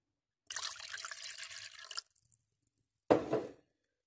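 Water poured into a bowl while making a brine for hot peppers in cream, a steady splashing stream for about a second and a half, then a short second pour after a pause.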